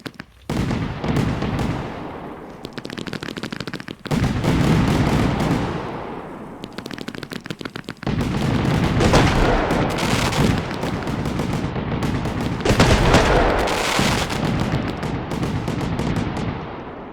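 Rapid crackling bursts and booming explosions of fireworks in the video game Fireworks Mania, loud and nearly continuous with brief pauses between volleys.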